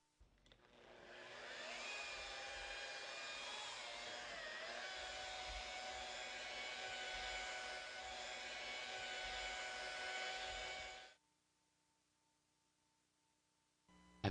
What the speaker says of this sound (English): Lubricate my pad and surface and start buffing.